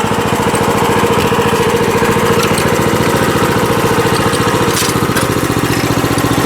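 A small garden tiller's engine runs steadily at slow tilling speed, a loud, continuous chugging putter with regular firing pulses and no talk.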